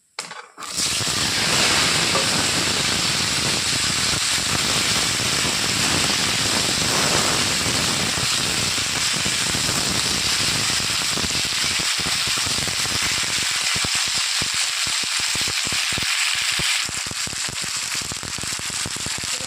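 Cut potatoes and flat beans hit hot oil tempered with cumin seeds and bay leaf, setting off a loud, continuous sizzle with dense crackling and spitting that barely lets up.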